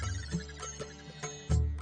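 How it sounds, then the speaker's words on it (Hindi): A phone ringtone plays a Hindi devotional song (bhajan) as a tonal melody with repeating notes and soft periodic accents, steady and fairly close, with no talking over it. "सोनू ने रिंगटोन में भजन रखा है?"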